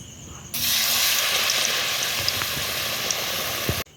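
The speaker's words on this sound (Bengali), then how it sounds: "এখন এরকম চুপিয়ে নিয়ে আর তেলের মধ্যে দিয়ে দেব" A homemade shop-style sandwich, puffed from an earlier fry, drops into hot oil and bursts into a loud, steady sizzle that starts abruptly after a brief quiet moment and holds until it cuts off.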